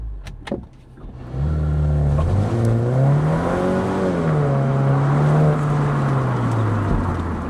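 A Mini John Cooper Works starts after a few clicks and accelerates, its engine note climbing and falling through the gears as a loud, close drone.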